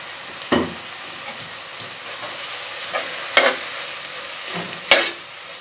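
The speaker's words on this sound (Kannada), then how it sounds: "ಸ್ವಲ್ಪ ಫ್ರೈಗೂ ಸ್ವಲ್ಪ ಇಡಿಸ್ಬಿಟ್ಟು ಇದಕ್ಕೂ ಸ್ವಲ್ಪ ರುಬ್ಬಿರೋಂಥ ಪೇಸ್ಟ್ನ ಆ್ಯಡ್ ಮಾಡ್ಕೊತಾ ಇದ್ದೀನಿ" A ground masala paste sizzles steadily in a pan while a spoon stirs it, with a few sharp scraping knocks against the pan rising over the constant hiss, close and clear.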